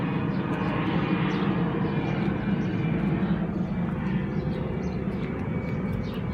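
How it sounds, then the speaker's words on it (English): A loud airplane engine roars steadily overhead a backyard garden, a broad droning rumble that fills the whole stretch without any speech. "I know that airplane was probably really loud."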